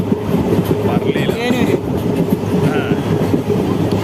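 A train rumbles past close by with a steady heavy roar and rhythmic wheel clatter, a few metallic squeals rising over it.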